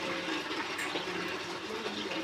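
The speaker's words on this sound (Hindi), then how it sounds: "तो वो टंकी से डायरेक्टली ऊपर चला जाता है पानी" Water rushes steadily through a pipe into a household storage tank, a continuous hissing gush at moderate level with no pauses over the short span.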